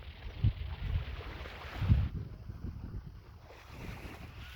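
Ocean waves wash onto an Auckland beach in a steady, rolling roar, with two louder surges early on and gusts of wind buffeting the microphone throughout.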